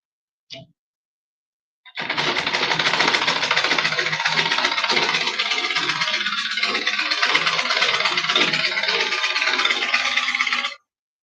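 A sewing machine stitches stretchy fabric for a pencil skirt: a brief click, then a steady, close mechanical whir with fine rattle running unbroken for about nine seconds.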